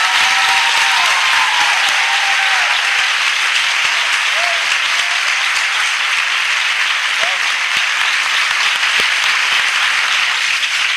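A church congregation in Chhattisgarh claps and applauds loudly and continuously, a dense sustained wash of many hands with a few voices calling out underneath.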